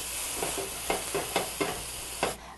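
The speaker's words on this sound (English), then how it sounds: "want to put just a little wine in there with the onion" Wine poured into onion sizzling in a little butter in a pan, then stirred: a continuous hiss broken by several rhythmic scraping strokes, close by, fading abruptly at the end, no speech.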